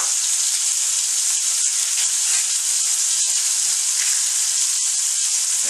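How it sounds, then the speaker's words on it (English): Venison neck roast searing in a hot pan, a steady, even sizzle with faint crackles throughout, close and fairly quiet with no voices. "And I'll let that get seared and show you what it looks like whenever it's done there"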